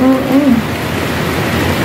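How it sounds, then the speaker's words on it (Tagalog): Heavy rain pours steadily, a dense hissing wash that stays loud throughout, with a brief voice at the start. "Yes guys, ulan dito sa amin."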